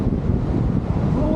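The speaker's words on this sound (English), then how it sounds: "A little bit windy too, so I'm curious on how that sounds." Low, rumbling wind buffeting a camera's built-in microphone at the Ocoee Whitewater Center, steady and blustery over a brief stretch with no clear voices.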